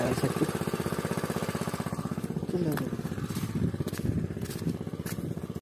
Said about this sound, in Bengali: দেখো মেশিন জল যাচ্ছে করে